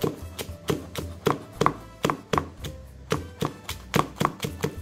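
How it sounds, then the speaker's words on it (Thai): Knife chopping fresh basil on a board, a steady run of sharp, evenly spaced taps close by, about two or three per second. "ซอยอะค่ะซอยเป็นชิ้น"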